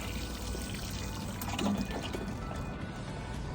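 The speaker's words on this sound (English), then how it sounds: "I'm just going to water everything that I planted today" Water pouring steadily onto freshly planted blueberries in a raised garden bed, a continuous close splashing wash with faint mechanical clicks, no talking.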